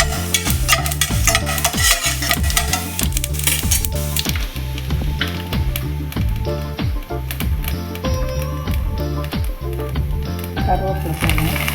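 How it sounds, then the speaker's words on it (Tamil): Mustard seeds spluttering and popping in hot oil in a pan while tempering for South Indian sambar, a dense, loud crackle close up that runs continuously. "இப்போ கடுகு பொரியுது."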